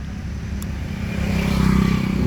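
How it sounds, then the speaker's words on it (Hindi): A Royal Enfield Continental GT 650 motorcycle engine starts and settles into a running idle, with a loud, close mechanical clatter that grows steadily from the engine side as the revs build. "इंजन के पास से, यहाँ से इस साइड से काफ़ी तेज़ बाइक में आवाज़ आ रही है"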